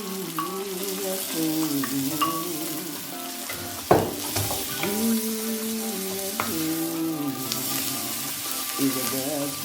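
Meat pie filling frying and being stirred in a pan, a steady close sizzle with one sharp clatter partway through and faint tonal sounds in the background.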